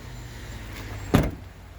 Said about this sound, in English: To fold it back down, simply pull this latch here,